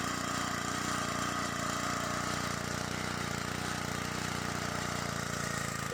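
The engine on a homemade firewood processor runs at a steady, moderately loud drone, a continuous mechanical hum that holds even without any sharp rise in pitch.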